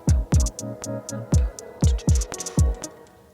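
Punchy deep kicks from a single VST drum kit hammer out a syncopated rhythm with lighter hits and hi-hats between them, close and loud, with no talking.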